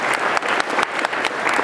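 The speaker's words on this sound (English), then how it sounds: "I want to give you guys a round of applause for that." A convention panel audience at Botcon 2011 claps for Transformers voice actors, a brief burst of dense, loud applause with sharp individual claps standing out.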